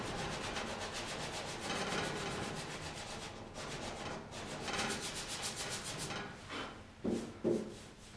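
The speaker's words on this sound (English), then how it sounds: "So we'll just grab the block and sand that little patch back where that dent was." Hand sanding a dented patch on a car bonnet with a sanding block: rhythmic back-and-forth rasping strokes, close and steady, with a few heavier scrapes at the end.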